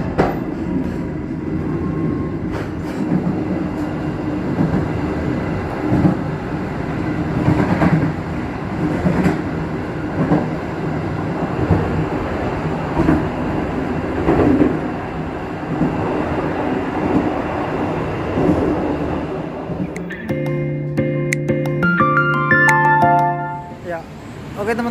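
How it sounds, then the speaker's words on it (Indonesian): The Kertanegara economy class passenger train rolls along the rails with a steady, loud rumble and clatter, and a voice talks over it; near the end, squealing brake tones come in as it slows. "perjalanan kereta api Kertanegara yang saya naiki saat ini telah tiba di stasiun Madiun"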